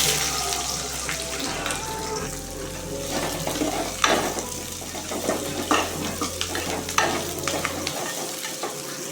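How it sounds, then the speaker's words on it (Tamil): Curry leaves and onions fry in hot oil in a pan, giving a steady crackling sizzle with occasional stirring clinks and scrapes, close by and without talk. "கறிவேப்பிலையும் வெங்காயமும் போட்டு வதக்கணும்"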